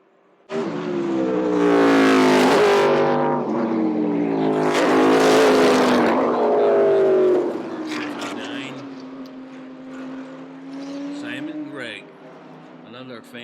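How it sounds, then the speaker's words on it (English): Trans Am race cars at speed on the Lime Rock road course, engines roaring loudly as they pass in two strong surges before fading to a lower drone, with a commentator talking over the noise. "watch these Trans Am cars"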